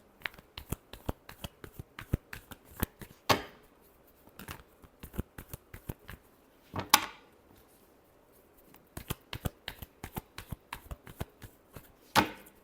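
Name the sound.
tarot cards being shuffled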